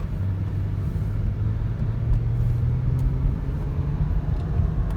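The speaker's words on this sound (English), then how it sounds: "That is such a smooth engine." 2010 Lexus ES350 with a 3.5-litre timing-chain V6, driving along, a smooth, quiet low rumble and road noise inside the cabin, steady with slight swells, and no talking.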